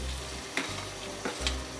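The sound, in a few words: tomato and onion frying and being stirred in pan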